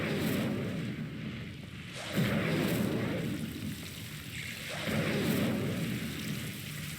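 Fire spell cast in Hogwarts Legacy: two loud, roaring bursts of flame rise over a rumbling, crackling game backdrop and then fade.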